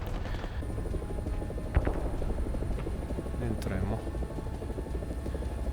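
Helicopter rotor drone from the War Thunder VR game, a steady low thrum running under excited talk, with a brief thump partway through.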